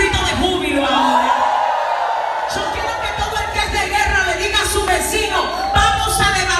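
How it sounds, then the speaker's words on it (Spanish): A church congregation shouts for joy, a sustained crowd roar of whoops and yells that swells and carries on loudly throughout. "Yo quiero que todos los que son gente de guerra den un grito de júbilo ahora."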